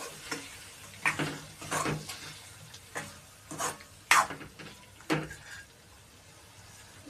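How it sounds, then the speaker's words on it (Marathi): Chicken pieces are added to roasted masala in a pan, bringing soft, intermittent sizzles and stirring scrapes in short bursts against a quiet background. "मसाला भाजला, आता टाकून द्यायचं चिकन."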